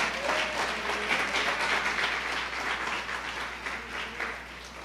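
A church congregation applauds at a service, steady dense clapping throughout, fairly close and even, easing slightly toward the end.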